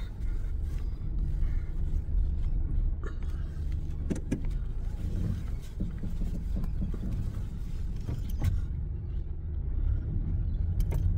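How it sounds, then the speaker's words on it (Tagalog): A car reversing on a road after work, low steady engine and road rumble inside the cabin with wind noise and a few clicks, fairly quiet and continuous. "Mag-reverse ako, baka may sasakyan sa likod."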